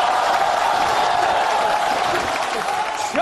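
A theatre audience breaks into warm applause for performers coming on stage at a Chinese comedy sketch show, dense steady clapping throughout with a voice briefly audible over it near the end.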